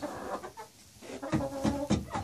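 Chickens cluck and murmur in a new coop, several short soft calls from close by, scattered over a quiet background.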